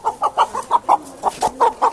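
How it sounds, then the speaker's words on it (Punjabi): A hen near a brood of chicks clucks in a quick, even series of about a dozen short, nasal notes, close and clear, with no talking. "ਤੇ ਇੱਕ ਇਹ ਮੁਰਗੀ ਜੇ,"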